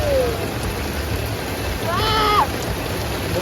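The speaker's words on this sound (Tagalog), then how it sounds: "It's now raining." Steady rain falls outdoors as a continuous broadband hiss. A brief voice or call cuts in near the middle, and the rain carries on underneath.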